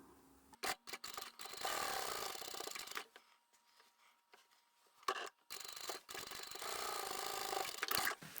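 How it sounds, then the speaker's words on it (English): A sewing machine stitching down the long edge of a fabric tube runs in two steady whirring bursts of a few seconds each, separated by a quiet pause and light handling clicks of the fabric. "So we're just going to sew straight down the long edge now."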